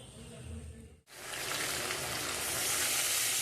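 Water splashing into braised meat in a hot pan sets off a loud, sustained sizzling hiss after a brief quieter moment, the frying roar swelling and holding steady.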